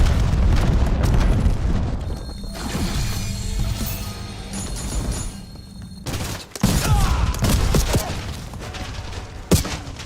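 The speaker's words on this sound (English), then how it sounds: "Why did it shoot twice?" Video game gunfire during a shooter match, heavy booming bursts with dense layered explosions and crashes filling most of the stretch, a brief dip before the noise swells again, loud and continuous.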